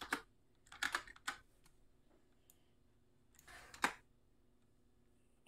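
A computer keyboard clicks in short, quiet bursts while a command is typed into a command prompt: several quick keystroke clusters near the start, a pause, then another flurry and a final sharp tap, with no talk.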